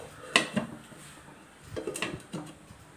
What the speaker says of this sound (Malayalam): നമുക്കിതൊരു 5 മിനിറ്റ് ഒന്ന് അടച്ച് വെച്ച് ഒന്ന് ദമ്മിടാം.